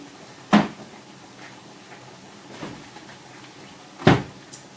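A kitchen door blown by the wind bangs shut three times at uneven intervals, two sharp knocks and a softer thud between them over quiet room tone.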